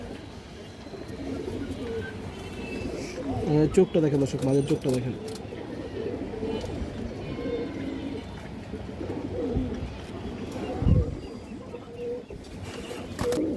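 Pigeons coo softly at a Bengali bird market stall, low throaty calls under someone talking steadily throughout.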